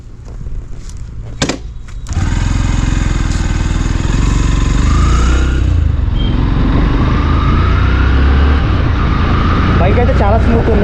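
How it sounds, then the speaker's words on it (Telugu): A Yamaha FZ-FI 149 cc motorcycle engine cranks and catches about two seconds in, then idles loudly and steadily up close with a low rumble for the rest of the clip. "స్టార్ట్ చేద్దాం బైక్ అయితే."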